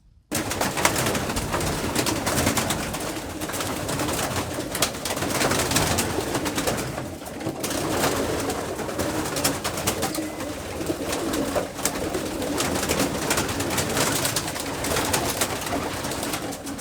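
Young pigeons cooing in a loft, a dense, steady murmur of many birds calling at once, continuous and fairly loud throughout with no speech.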